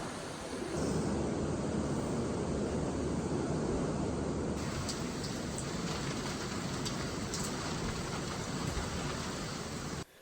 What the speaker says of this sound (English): it's just this very nice, light pitter patter of rain